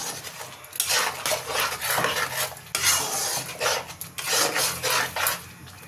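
Spice paste for malai chicken is stirred and fried in a pan, giving steady scraping and rubbing strokes of a spoon against the metal with a light sizzle underneath and no voices.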